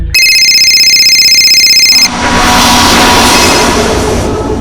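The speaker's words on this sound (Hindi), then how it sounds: "और आखिरकार भावेश का फोन फिर बजा" An electronic phone ring trills loudly for about two seconds, then gives way to a dense, noisy background.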